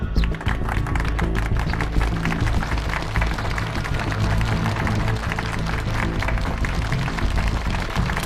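An audience gives sustained, even applause as a commander is welcomed on stage at a formal founding ceremony, a steady wash of many hands clapping from start to finish.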